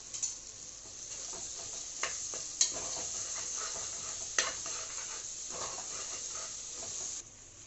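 Ginger garlic paste fries in a pan for biryani, giving a soft, steady hissing sizzle with occasional stirring clicks and scrapes, close but fairly quiet, stopping just before the end.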